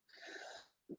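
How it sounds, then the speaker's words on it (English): A single breathy, hoarse cough burst, followed by a short throaty catch, heard faintly and alone. "That's an awesome time to have a coughing attack"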